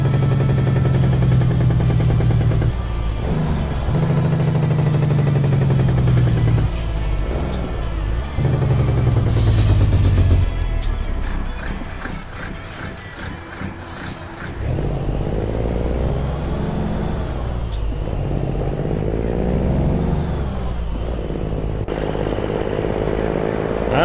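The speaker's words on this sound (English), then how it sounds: "These are the only engines I've ever found that actually sound that way as in Outlaws." An Outlaw 379 truck in American Truck Simulator roars loudly, with rising and falling revs through gear changes, a deep throaty rumble, bursts of crackling exhaust and a hiss of air brakes, and no talk.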